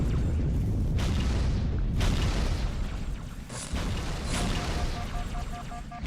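A frag grenade blows up during a Halo 2 match, a loud booming blast with rumbling debris amid ongoing gunfire and game noise, with heavy low-end thuds recurring across the stretch.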